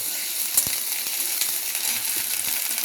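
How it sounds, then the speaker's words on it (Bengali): Ginger paste fries in hot oil in a kadai, a steady close sizzle with a few faint spatters and stirring clicks throughout. "এই আদা বাটা দিলাম। দেখো আদাটা কড়াই দিয়েছি।"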